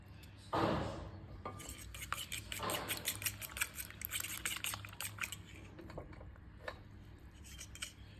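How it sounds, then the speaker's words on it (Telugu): Two eggs beaten in a bowl, quick irregular clinks and taps of a utensil against the bowl with wet splashy strokes, faint and close, no voices. "2 eggs బీట్ చేసుకొని వేసుకుందాం."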